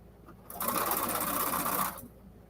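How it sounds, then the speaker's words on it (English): A sewing machine stitches quilted placemats in one steady burst of about a second and a half, its fast rhythmic whir starting and stopping abruptly against a quiet room. "I'm ready to sew."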